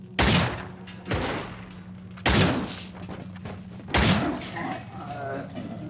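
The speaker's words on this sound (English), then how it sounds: "we find the SVT, a semi-auto rifle, and honestly, this thing is a game changer" SVT semi-automatic rifle in the Soviet shooter game Cryostasis fires four spaced, sharp shots with ringing tails, heard alone without talk.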